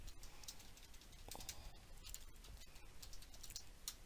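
Keys tapped on a computer keyboard while entering bulleted text into a presentation slide, quick irregular clicks running steadily and fairly close through the whole stretch, with no talking.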